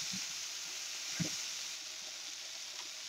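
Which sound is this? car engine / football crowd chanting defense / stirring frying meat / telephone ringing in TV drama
stirring frying meat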